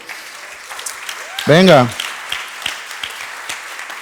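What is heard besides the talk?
congregation applause in church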